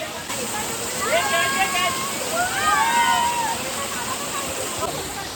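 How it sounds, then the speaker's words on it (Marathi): A small hidden waterfall keeps up a steady broadband rush of flowing water. A person talks over it throughout. "छोटासा वॉटरफॉल आहे"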